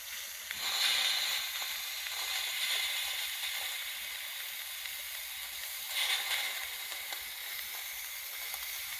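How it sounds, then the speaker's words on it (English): Steam blows down from the boiler valve beneath the lubricator of an Accucraft Caradoc live steam locomotive, giving a continuous airy hiss that swells briefly near the start and again later, steady and close, with no talk. "we want to open this valve underneath the lubricator to blow down the boiler"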